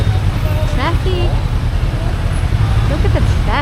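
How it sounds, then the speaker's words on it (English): Busy street traffic rumbles along a road in Hanoi, a dense low engine drone with horn-like tones and passing vehicles standing out here and there, fairly loud and close throughout. "Look at the traffic."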